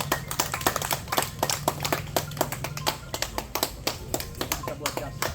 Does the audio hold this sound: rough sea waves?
no